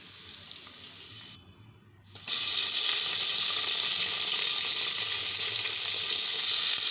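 Garlic and peanuts fry in oil in a pan while making upma, first a soft sizzle, then after a brief drop a loud, steady, bright hiss that continues to the end.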